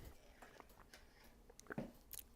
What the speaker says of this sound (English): You might have just heard me gulping some Yorkshire Gold.